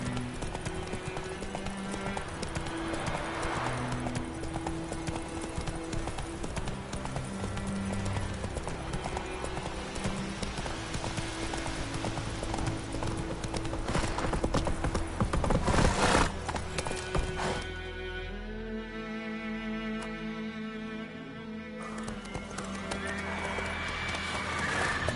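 Roach the horse from The Witcher 3 trots with steady clip-clop hooves and lets out a loud whinny partway through, set against busy in-game music and ambience.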